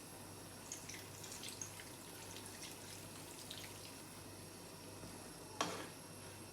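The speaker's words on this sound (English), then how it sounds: "Then I'm going to add the rest of the water." Water trickles and splashes as it is poured into a spicy dry Lottia fish curry with vegetables. The sound is faint and intermittent, with one sharper splash near the end and no voices.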